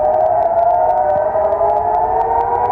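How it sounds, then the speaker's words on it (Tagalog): A loud, sustained air raid siren wail in Jerusalem during Iranian missile fire holds a steady tone throughout, droning without a break. "Sirena sa Jerusalem sa pag-ulan ng Iranian missiles"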